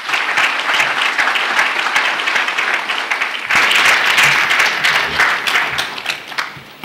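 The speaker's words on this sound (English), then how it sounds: "I think we can do well to give him another round of applause" A closing ceremony audience gives a dense, steady round of applause that holds loud and even for the whole stretch, with a brief dip and renewed surge midway.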